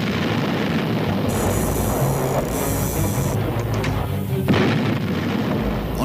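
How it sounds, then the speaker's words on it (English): The battleship Bismarck fires a series of gun salvos: heavy, rumbling booms roll over a dense, sustained background, with a sharper blast standing out near the end. "Bismarck responds with a series of salvos."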